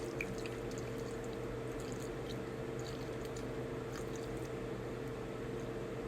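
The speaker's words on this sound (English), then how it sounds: "I'm just going to take some water, a little bit of water, and pour over all that so it can marry in together" Water is poured over carrots and onions in a pan, giving a steady, continuous wash of sound with a low hum underneath and no voices.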